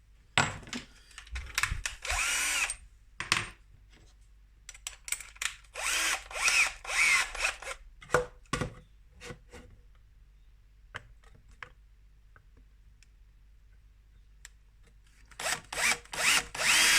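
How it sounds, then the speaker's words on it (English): A 22 millimeter hole saw on a power drill cuts a hole in several loud bursts of whirring, separated by pauses, with a last burst at the end. "22 millimeter hole saw."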